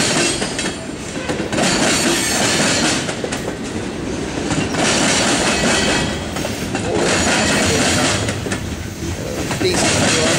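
A CSX freight train, Q464, rolls past loudly and close on the rails, a sustained roar of wheels with rhythmic clickety-clack and brief squeals throughout.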